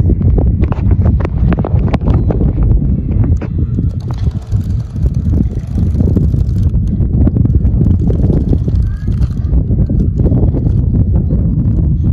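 Wind buffets the microphone continuously outdoors during kite flying, a loud, rough rumble that gusts unevenly throughout with no other sounds emerging.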